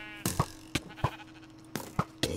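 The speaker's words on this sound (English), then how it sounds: "Sheep." Sheep in the Minecraft video game bleat in short, evenly spaced calls, five or so quick baas, close and clear over a quiet background.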